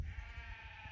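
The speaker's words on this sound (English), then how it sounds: "You can hear the sheep in the background." Sheep bleat in the background at a main vegetable garden bed, with a faint steady call under low outdoor ambience and no speech.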